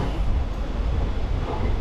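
Train pulling out of Mangalore Central station, a steady close rumble of rolling railcars and wheels filling the whole clip without pauses.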